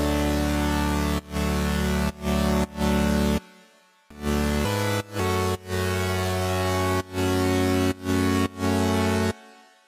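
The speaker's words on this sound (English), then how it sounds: "a super saw sound" Bright future bass super saw synthesizer chords, loud and sustained, chopped by sharp rhythmic gaps across two short phrases with a brief pause between them.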